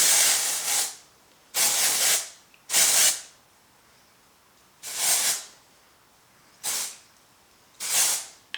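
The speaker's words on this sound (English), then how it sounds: "I'm gonna use my OB Hive dry shampoo on it" OB Hive dry shampoo sprayed onto hair from an aerosol can in six short hissing bursts, each about a second long with brief pauses between, close and clear.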